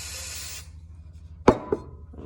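Carburetor cleaner sprayed into the float bowl of a carburetor, a steady close hiss of spray that cuts off, followed by a couple of sharp metallic clicks and a faint knock.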